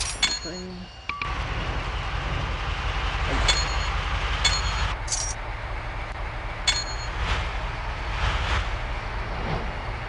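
A train runs steadily in a video game, a continuous low rumble with a few short beeps on top while a person talks over it.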